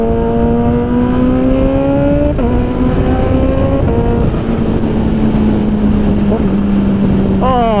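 A modded Kawasaki H2 motorcycle engine drones loudly and close under wind buffeting, its pitch jumping abruptly several times as the gears change, with a sharp rising rev at the end.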